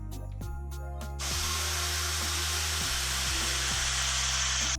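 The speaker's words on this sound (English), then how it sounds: "But we'll go ahead and drill this one too." A power drill whirs steadily up close as it drills into a wooden dowel, its motor pitch dipping a few times as it bites, then a louder continuous grinding hiss takes over.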